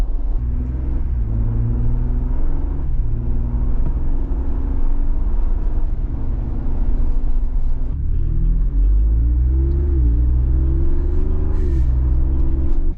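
From inside the cabin, a Ford Bronco with an aFe cat-back exhaust gives a low, steady drone over road and tire noise, then swells and climbs in pitch as it accelerates partway through.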